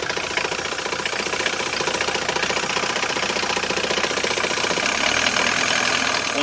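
A 1967 Mercedes W110 200D diesel engine runs at a rough idle just after start-up, a loud, steady clattering rumble with fast rhythmic knocking that continues unbroken and close, with no voices.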